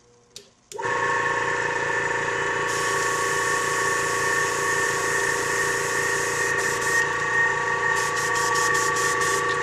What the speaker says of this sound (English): Gotta turn my compressor on, losing some air pressure.